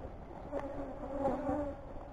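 Bees hum in a 33-frame horizontal hive box, a faint, steady buzz with a few wavering tones rising over it.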